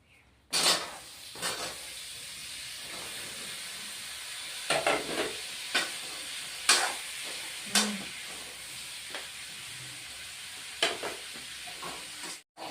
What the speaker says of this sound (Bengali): এখন বন্ধুরা ফুলকপি ভেজে নেব এই যে ফুলকপিগুলো এখন ভেজে নেব